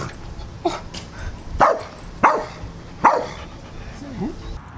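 A dog gives a few sharp barks spaced about a second apart, followed by a softer whimpering yelp, close by with faint background noise and a person talking around it.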